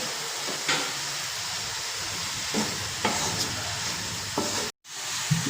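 Green chillies and other ingredients for prawn pathiri sautéing in a pan, a steady close sizzle and hiss with occasional scraping stirs and a brief cutout near the end.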